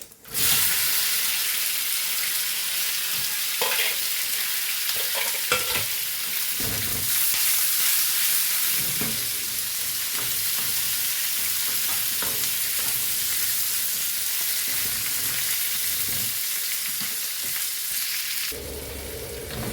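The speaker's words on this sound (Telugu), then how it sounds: "చూడండి, బాగా వేగాయి ఉల్లిపాయలు." Onions frying in a pan for a spicy mushroom masala curry, a loud, dense continuous sizzle and hiss with occasional stirring scrapes, close up, lasting throughout with no talking.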